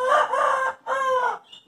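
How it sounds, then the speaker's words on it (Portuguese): Chickens sound off near an acerola tree with two loud, drawn-out crowing calls, close and clear, then a faint short note. No one speaks. "que as galinhas já aproveitam aqui"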